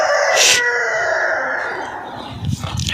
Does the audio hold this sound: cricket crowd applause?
no